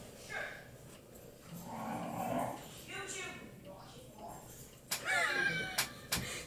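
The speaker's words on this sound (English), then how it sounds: "And the dogs are playing." Dogs playing indoors, with yips, whimpers and low growls that rise into sharper barks near the end, while people talk over them.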